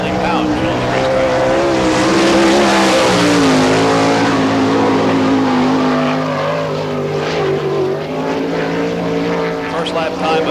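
A sprint car, the 1Z, circles a dirt track during an All Star Circuit of Champions Speedweek event in Barberville, Florida. Its loud, sustained engine roars close by, the pitch rising and falling as it runs through the turns.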